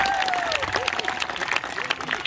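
A studio audience claps and cheers for a woman introduced as Wonder Woman at a French-language show. The clapping is dense and steady, with whoops rising over it and a voice briefly heard above the crowd.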